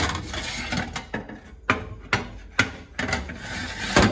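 A metal baking rack is slid into the third rung of a home oven, giving several scraping, rattling bursts with short clanks between them, close by and with no talk.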